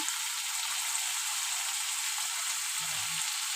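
Potatoes fry with spices in hot oil in a wok, a dense steady close sizzle with no talking, a faint low knock near the end.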